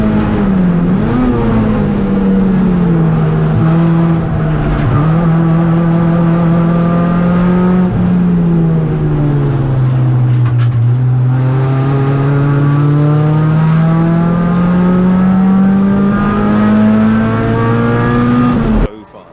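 Radical race cars at Silverstone during the 750 Motor Club Birkett Relay, a sustained loud engine note wavering in pitch as a car holds revs and shifts, with commentary talking over it throughout.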